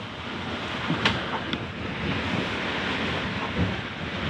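Steady wind and sea wash around a sailboat under full, unreefed sail in roughly ten knots of breeze, a continuous broadband rush with a few brief splashes or knocks.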